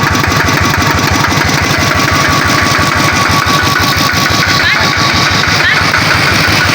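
A small 10-horsepower Kubota ZT100 Pro Plus diesel engine chugs steadily up close, loud and rhythmic with a constant throbbing idle that never lets up.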